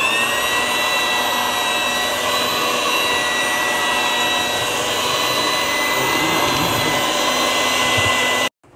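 Electric hand mixer whirring steadily as it blends cake batter with half a stick of melted butter for a pineapple upside-down bundt cake, a loud continuous motor drone that cuts off abruptly at the end.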